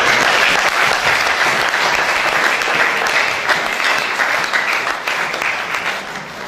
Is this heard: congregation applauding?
yes